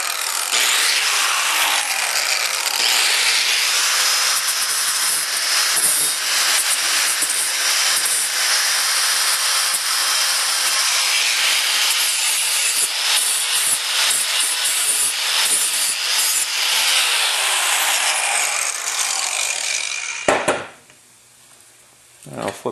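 A riding mower deck blade has its edge cleaned of burrs, making a loud, steady abrasive grinding that runs unbroken for about twenty seconds and then cuts off abruptly.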